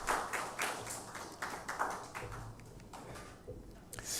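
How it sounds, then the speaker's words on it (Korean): A church congregation claps in thanks after the choir sings during a Sunday worship service, the scattered, fairly faint applause lasting about four seconds. "은혜로운 찬양해 주신 성가대원들에게 감사의 박수하겠습니다."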